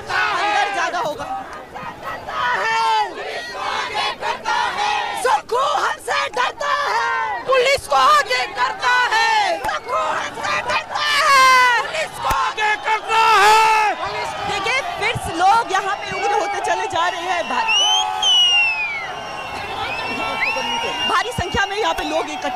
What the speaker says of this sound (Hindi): लगातार भीड़ पूरी तरह से यहाँ पे उग्र होती चली जा रही है